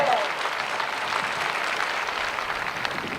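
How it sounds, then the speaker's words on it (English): A crowd of graduates and guests applauds at the University of New Hampshire Graduate School commencement for the classes of 2020 and 2021. The clapping is dense and sustained from start to finish. "Yes, that's worth a round of applause right there."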